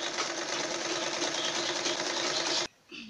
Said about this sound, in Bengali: ভাঁজ করে নিয়ে সেলাই করে নিব